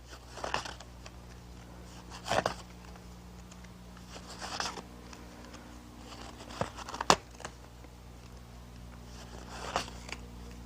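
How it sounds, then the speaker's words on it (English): Tablet weaving cards are turned over by hand in several short clusters of light clicking and rustling, quiet and close, separated by pauses of near silence over a low background hum. "So I'll flip all of these cards."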